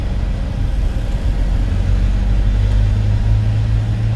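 A driving-test car pulls forward in third gear with a steady engine rumble and droning road noise from inside the cabin, close and moderately loud, with no speech.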